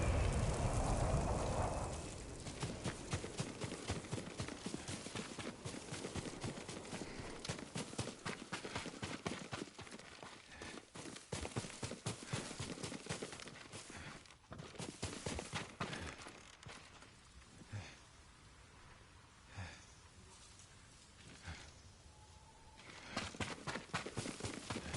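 Horse hooves clip-clopping in Ghost of Tsushima, a steady run of sharp close hoofbeats mixed with rain-like rustle, continuing for most of the stretch and thinning toward the end.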